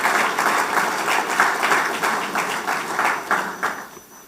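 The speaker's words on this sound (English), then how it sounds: "a big round of applause for Mr." Trade seminar audience applauding a speaker, a dense, sustained wash of clapping with a loose pulsing beat, loud and full, gradually thinning and fading toward the end.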